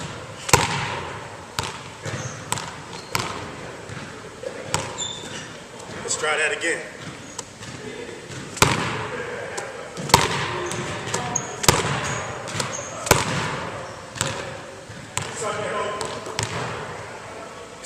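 A basketball bounces repeatedly during a one-ball handling dribble drill, sharp regular thumps at a steady moderate pace, loud and close, with a coach talking over the bounces.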